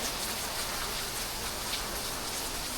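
Steady monsoon rain pours down close by, a dense continuous hiss without pauses or voices.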